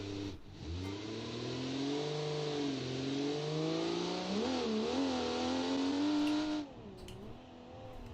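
Supercharged Volvo 240 Estate in the BeamNG driving game launching hard, its engine climbing steadily in pitch through the revs with a brief dip, then cutting off near the end; loud, close and with no talking.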